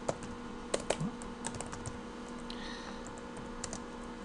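Typing on a computer keyboard while setting up a VB.NET XNA game project, with irregular bursts of close key clicks and taps over a quiet room hum, without any talking.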